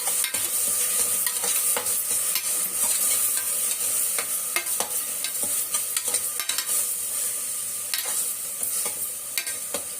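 Onions and green chillies fry in a pan for a tomato rice lunch dish, with a steady loud sizzle and repeated scraping stirs of a spatula throughout, no voices.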